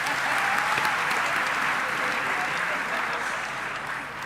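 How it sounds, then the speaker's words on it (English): An audience at a university academic opening ceremony applauding, sustained dense clapping from many people that holds steady then eases slightly toward the end, with faint voices underneath. "A round of applause for him."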